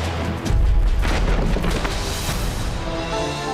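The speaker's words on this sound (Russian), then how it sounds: "Внезапные взрывы и вспышки." A deep boom bursts in early, followed by rumbling, crackling blasts that roll on and slowly settle into a lower roar.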